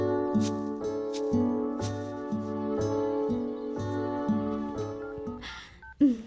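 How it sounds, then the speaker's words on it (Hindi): A phone rings for an incoming call in an Indian film scene, playing a looping melodic ringtone that repeats its phrase about every half second, steady and clear, with a short electronic chirp near the end. "सुलक्षणा फोन कर रही है"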